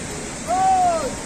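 Dhuandhar waterfall on the Narmada river gives a steady, loud broadband roar of falling water throughout. A brief rising-and-falling whistle-like tone sits on top midway.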